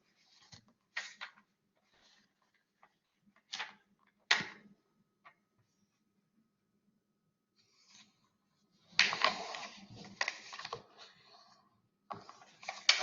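A sheet of origami paper is creased and folded by hand in quiet surroundings: several short crisp taps and crackles, then a longer rustling, crinkling burst of paper handling, close and fairly faint.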